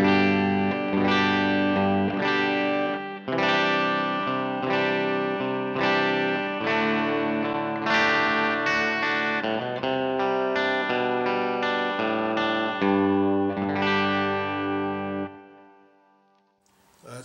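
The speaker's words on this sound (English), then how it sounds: "I can play some chords and just give you an idea of what the different pickup configurations sound like." Clean electric guitar chords strummed on the bridge pickup of a Les Paul Junior-style build, a steady run of ringing strums that fades out near the end, with no talking.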